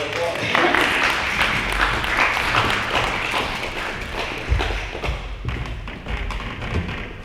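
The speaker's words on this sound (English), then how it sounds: "Please give Mr. Davis a round of applause." An audience at a veteran suicide prevention forum claps for a speaker, a dense sustained patter of many hands with some thumps, loud and close before tapering slightly near the end.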